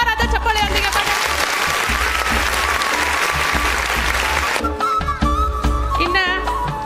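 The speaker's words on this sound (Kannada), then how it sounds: "ಹೃತ್ಪೂರ್ವಕವಾದ ಸ್ವಾಗತವನ್ನು ಜೋರಾದ ಚಪ್ಪಾಳೆಯೊಂದಿಗೆ" An audience at a school welcome event claps loudly, a dense sustained round of applause throughout with a brief dip near the end, while a voice speaks over it.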